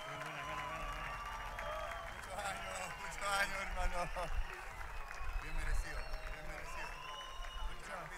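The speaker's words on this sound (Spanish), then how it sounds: "Muchas gracias, un aplauso." Applause and cheering from a live concert crowd at the Rockódromo 2018 festival, dense and sustained clapping swelling in the middle, with voices mixed in.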